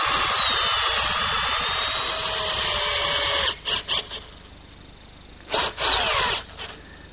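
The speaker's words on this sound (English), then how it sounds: "we'll drill and attach it with a couple screws" A power drill drives screws into a wooden Queen Anne table base. It whines loud and close in one long continuous run, then gives a few short trigger bursts.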